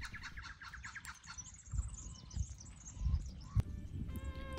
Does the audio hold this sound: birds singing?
yes